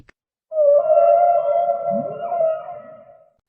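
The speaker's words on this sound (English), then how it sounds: "Whale sound." A whale gives one long, steady moaning tone that holds for about three seconds with a brief lower swooping note partway through, loud and alone against silence.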